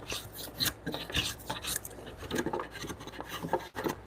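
Hand pull plane shaving a wooden tenon during joinery fitting in a workshop, close dry rasping strokes in irregular bursts, several scraping passes with short pauses, no talking.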